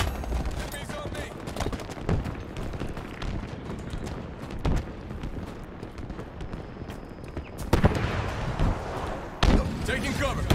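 Rapid automatic gunfire from a weapon in the shooter Halo Infinite, with dense bursts of shots running nearly continuously, louder blasts near the end, and game voices speaking over the fire.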